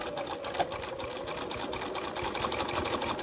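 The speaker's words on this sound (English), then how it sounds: "what I'm going to do now is just sew, close that seam" A sewing machine stitches a quilt's binding seam closed, backstitching over the join, giving a steady, close, continuous motor whir with fast needle chatter and no voices.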